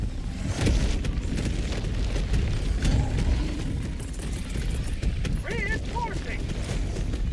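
Explosions from a strafing run called in as air support in Helldivers 2 rumble in a dense, continuous low roar of booms and rattling blasts, with voices talking over the din.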